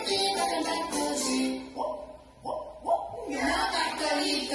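Over a children's song about a rooster, a voice mimics a dog's bark with a few short, punchy yaps rising out of the music, fairly close and loud.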